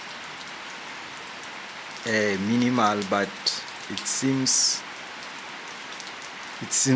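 Heavy autumn rain patters steadily in a South African vegetable garden, a constant hiss beneath a man's speech.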